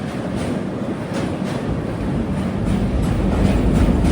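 A train crossing the Ganga river bridge at Varanasi at night, a continuous heavy rumble with faint rhythmic beats of wheels on the span.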